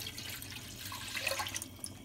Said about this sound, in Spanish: Mientras vamos a poner nuestro agua aquí, porque lo vamos a cocer a baño maría.